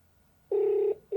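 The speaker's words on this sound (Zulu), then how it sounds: "Naliyakhala." A telephone ringback tone sounds on the line: one steady electronic burst about half a second long, a short pause, then the next burst beginning, loud and close with no talk.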